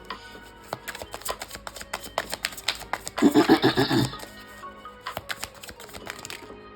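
Tarot cards are shuffled and drawn by hand in rapid papery riffles and slaps, nearby and fairly clear, with a denser burst of shuffling in the middle and no talking.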